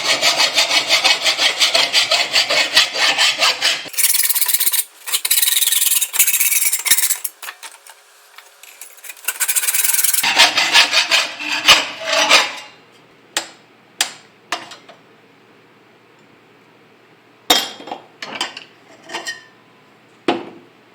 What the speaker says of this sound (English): after that you're pretty well good to just hack the top off